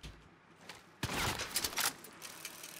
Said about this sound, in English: I just got shot at. I'm being sniped at.